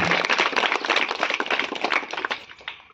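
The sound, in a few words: audience clapping at a Diwali school event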